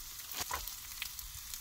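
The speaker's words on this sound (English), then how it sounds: "Oh, it's still sizzling on my fingers." Bacon fries in a pan at a car-camping spot in the Yorkshire Dales, giving off a steady hiss of sizzling fat broken by a few sharp crackles and pops, close and fairly loud.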